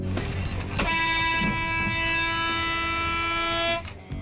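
A car horn honks in a queue of traffic as a foreign car reverses toward it. It is a single loud, close blast held steadily for about three seconds, with no talk.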